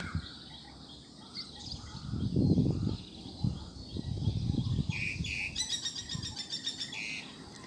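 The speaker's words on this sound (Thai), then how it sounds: "ฝูงนกตอนเช้า" A flock of birds chirping and calling together outdoors in the morning, with bursts of twittering and a quick rapid trill near the end over a soft background hum.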